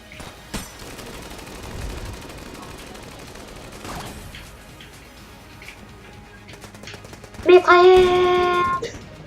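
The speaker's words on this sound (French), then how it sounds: "Mitraillette!" Rapid machine gun fire in Enter the Gungeon comes in a loud burst near the end, after quieter game effects and sparse background sounds.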